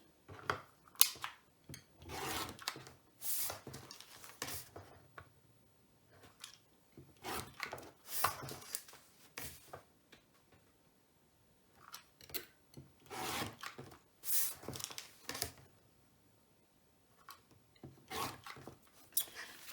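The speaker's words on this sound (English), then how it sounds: "now I need to cut on all the solid lines" Scissors cutting quilting paper and fabric along lines for half square triangles, close, quiet rasping snips in short bursts separated by pauses.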